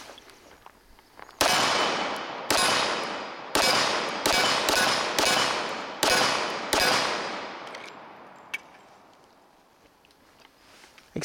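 A Charles Daly Empire Grade 1911 pistol in .45 ACP fired with a Wilson Combat magazine, seven sharp, loud shots in quick but uneven succession, each ringing out with a short echo, followed by quiet outdoor ambience.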